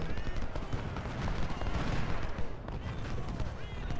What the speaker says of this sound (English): we'll shoot him with the gun